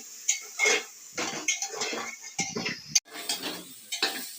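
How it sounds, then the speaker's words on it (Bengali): Metal spoon scraping and clinking in a pan while tilapia curry masala with tomato is stir-fried, a run of quick close scrapes and knocks with short pauses, with no voices. "এখন ভালো করে কষিয়ে নিতে হবে"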